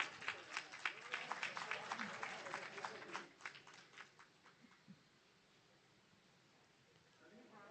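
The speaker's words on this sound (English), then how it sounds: "A round of applause, everyone." An audience at an Islamic economics and finance conference claps for a few seconds after a keynote, a dense patter that thins out and fades to quiet near the midpoint. Faint talk runs underneath.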